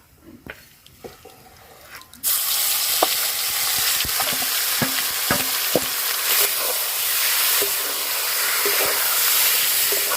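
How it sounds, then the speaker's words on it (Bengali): Marinated chicken dropped into hot oil over a tempering of whole spices, dried red chillies and bay leaves, bursting into a loud, steady sizzle after a quiet start, with scattered clinks of stirring throughout. "এবার ম্যারিনেট করা চিকেনটা তেলের ওপর দিয়ে দেব।"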